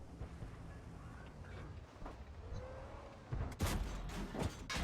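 Tank cannon fire and a high-explosive shell impact in World of Tanks, a sudden loud burst of heavy booms and crashes arriving late after a quieter stretch of low engine rumble and faint battlefield noise.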